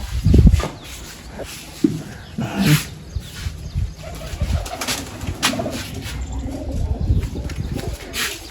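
Pigeons cooing in a pigeon loft, a steady chorus of low throaty coos with wing flutters and rustling, close and fairly loud throughout, no voices.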